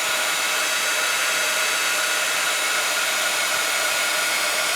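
A heat tool melting embossing powder on a handmade card blows with a steady, close, hissing whoosh like a hair dryer, constant throughout with no speech.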